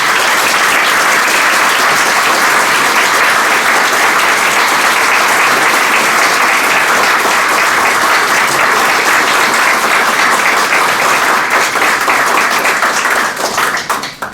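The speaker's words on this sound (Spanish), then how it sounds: "pido ahora para él un gran aplauso." An audience at an inauguration speech breaks into loud, sustained applause, a dense steady wall of clapping that continues for about fourteen seconds before beginning to fade.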